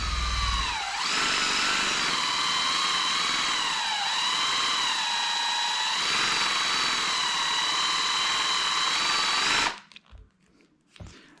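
A rifle barrel spins under power while being sanded to fit its receiver, producing a loud, sustained whining hum with slight pitch dips before it cuts off abruptly near the end.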